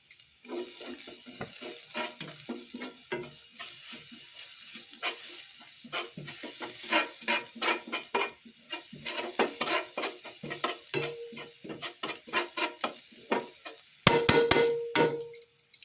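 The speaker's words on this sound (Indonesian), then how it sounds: "setelah minyaknya panas, kita masukkan terlebih dahulu untuk bawang putih yang tadi sudah dicincang halus ya" Finely chopped garlic sizzling in hot oil for butter fried chicken, with a continuous crackle and many quick scraping stirs of a spatula, growing louder with a sharp burst near the end.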